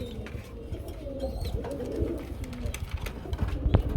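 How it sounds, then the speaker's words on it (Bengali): Close, continuous deep cooing from a black male racer pigeon calling to a female, rolling and throaty, with faint rustles and a bit of background noise. "রেসার কবুতর ব্ল্যাক কালার নরে মাদিরে ডাকতেছে"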